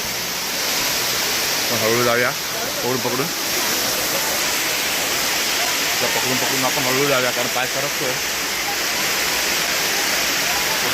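Broad roaring rush of a monsoon waterfall at Jummapatti near Matheran fills the scene, loud and continuous, while people talk over it near the microphone.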